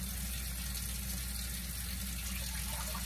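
Water pouring steadily into a cooking pot for jasmine rice, a soft continuous splashing rush under a low background hum, with no voices.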